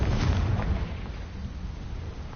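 A Confringo fire spell bursts in the Hogwarts Legacy video game, a deep rumbling explosion that starts loud and fades over a couple of seconds.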